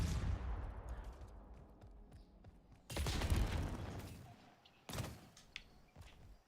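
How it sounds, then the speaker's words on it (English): Dual SMG slipstreams firing in the video game Splitgate 2: loud, dense bursts of rapid gunfire, a long volley at the start, a second heavy burst around three seconds and a shorter one near five seconds, with quieter gaps between. "They're basically dual SMGs, but you can't aim down sights with them."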